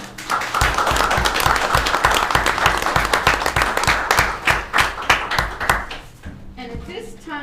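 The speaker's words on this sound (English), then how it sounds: "please give her another round of applause" At a county board of commissioners' regular meeting, a roomful of people claps loudly and steadily, with dense clapping that thins out near the end as it fades to scattered claps.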